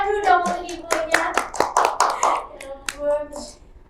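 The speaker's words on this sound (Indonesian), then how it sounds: "Tepuk tangan dulu dong untuk ibunya." A small group claps for a teacher, a short burst of sharp, close hand claps scattered over a few seconds alongside speech and children's voices, thinning out toward the end.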